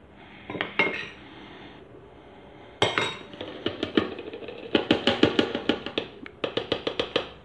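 Whisk or spoon beating vanilla and chocolate cupcake batter in a bowl, fast clinking strokes against the sides in bursts, close and fairly loud, no talking.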